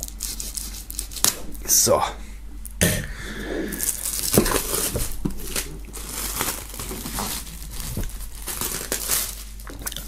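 Plastic shrink-wrap foil being cut and peeled off a music box set, with crinkling, rustling and sharp tearing bursts throughout while a person talks in German.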